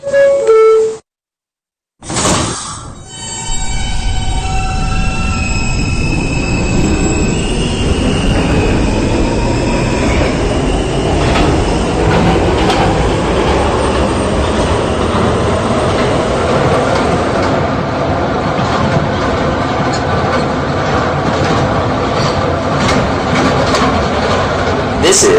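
An R160B D subway train in the PTA Subway game pulls away and runs, a rising motor whine and steady rumbling rail noise building loud and continuous after a brief pause; an automated voice is heard.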